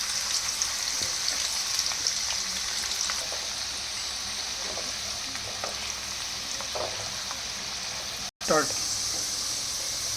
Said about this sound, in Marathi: त्यामध्ये आता मी बटाटे टाकते. थोडे थोडे सोडायचे, म्हणजे थोडे डीप फ्राय करून घ्यायचे.